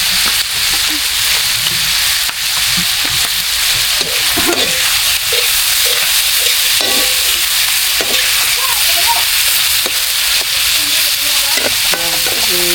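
Eel adobo sizzles loudly in a hot pan, a steady dense frying hiss with occasional stirring scrapes and small pops throughout, close up and continuous.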